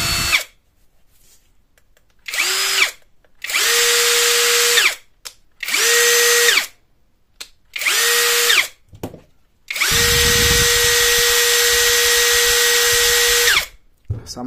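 An MLHY 20V cordless drill fitted with an impact wrench ESC module whirs up in several short bursts, then runs steadily for about four seconds, close and loud, with silent gaps between the runs.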